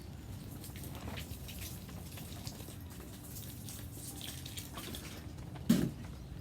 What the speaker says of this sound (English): give them a wee bit of a water.